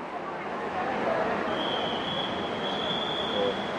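MRT train parked at Lebak Bulus, the end station of the line, giving a steady broadband rumble with a faint high whine, heard continuously and fairly near under general station ambience.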